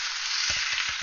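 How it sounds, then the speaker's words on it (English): Steady broadband sizzling of a lamb chop frying in butter in a hot pan, with a few soft low thumps underneath, close and continuous. "You hear that sizzle? I love it."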